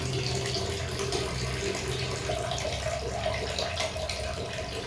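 Tap water runs steadily in a home while clothes are being washed by hand, a continuous close splashing flow with no talk over it.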